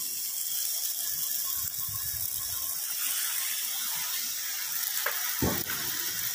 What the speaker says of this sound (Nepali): यहाँनिर भाउजूले सेलरोटी पोल्न थालिसक्नु भयो